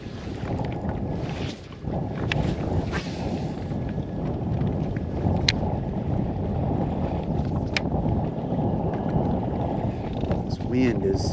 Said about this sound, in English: This wind is not our friend.